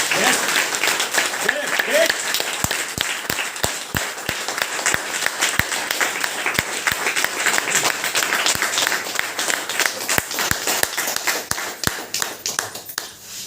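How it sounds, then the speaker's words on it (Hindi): Audience applause at an indoor Hindi motivational team event, a dense sustained round of clapping filling the whole stretch, loud and steady with sharp individual claps standing out, with no talk over it. "एक बार बढ़िया वाली ताली, बढ़िया वाली"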